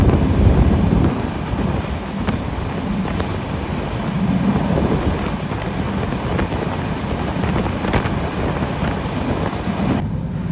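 Ruposhi Bangla Express train running at full speed, a loud continuous rumble with wind roar and rattling heard from on board, unbroken throughout.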